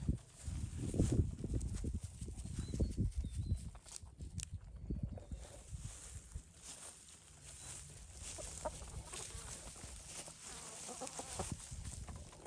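Free-range chickens pecking treats scattered on freshly cut lumber, with soft clucks, scratchy pecks and a few footsteps, fairly quiet and close, with no talk.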